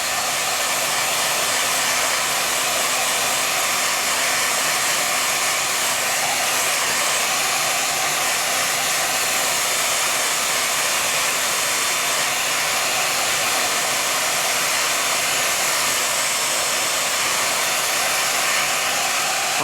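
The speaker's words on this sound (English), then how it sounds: "I'm going to use a blow dryer and I'm going to speed the process of drying up." A blow dryer runs continuously at close range while drying a clay coil vase, a loud, steady, breathy whoosh with a constant motor whine and no breaks.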